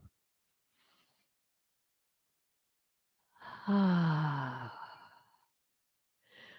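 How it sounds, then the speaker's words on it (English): A single slow, deep breath follows a long quiet stretch. The audible exhale swells and fades over about two seconds, with a faint breath at the very end. "Take a moment right now and breathe deeply"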